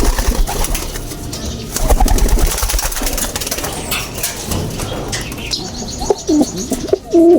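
Racing pigeons coo and chirp close by amid a busy outdoor din, with occasional wing flaps and scattered bird calls.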